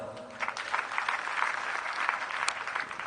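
Congregation clapping in a church during a sermon, a steady moderate round of applause from a crowd lasting a few seconds.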